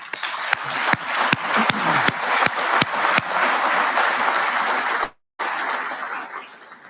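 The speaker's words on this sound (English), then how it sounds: "how about a round of applause for all those fine folks" Dinner audience at a Marine Corps awards ceremony applauding, with loud sustained clapping and sharp individual claps standing out, a brief dropout near the end, then the applause resumes and tapers off.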